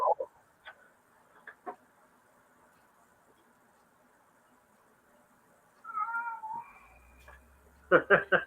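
A cat gives a brief meow partway through, fairly faint against a quiet room with scattered clicks and knocks, and a person talks briefly near the end.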